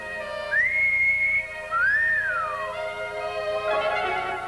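A man gives a two-part wolf whistle, a rising tone followed by a swooping rise and fall, clear and close over a faint background.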